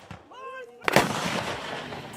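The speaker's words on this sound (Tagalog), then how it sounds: "Sunod-sunod na putok ng kanyon na maririnig sa dalampasigan ng Burgos," A howitzer cannon booms once during a live-fire military exercise on the Burgos, Ilocos Norte shoreline, a loud sharp blast followed by a long rumbling roll, with a brief voice-like tone just before it.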